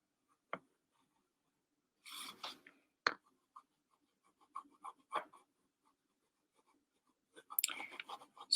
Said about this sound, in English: The sound of a pencil kind of rubbing onto the paper